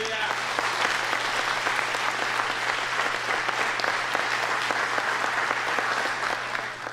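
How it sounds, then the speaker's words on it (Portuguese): A church congregation claps in sustained, dense applause for about seven seconds, loud and even before tapering slightly at the end, with a few voices mixed in. "Vamos dar uma salva de palmas para Ele?"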